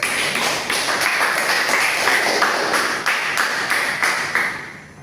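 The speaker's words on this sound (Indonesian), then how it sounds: "Berikan aplaus dulu" A classroom of students claps together, a dense run of quick overlapping hand claps that stays loud and steady for several seconds before trailing off at the end.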